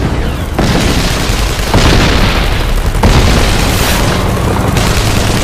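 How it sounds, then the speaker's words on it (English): Dynamite detonations blasting holes through perimeter wire at a Vietnam-era base: a continuous, loud roar of heavy booms and rumbling blasts, with fresh explosions breaking in every second or so. "It is the signal to detonate dynamite and blast holes in the perimeter wire."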